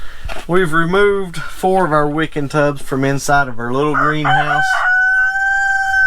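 A farmyard rooster crows near a small greenhouse while someone talks over it. A long, loud, drawn-out crow rings out clearly near the end.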